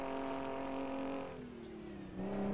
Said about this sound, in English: That sounds pretty good when you redline it.